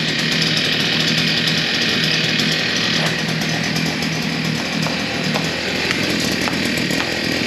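A kid's gas mini chopper engine runs steadily at high revs, a loud continuous buzzing drone with slight fluctuations and no voices.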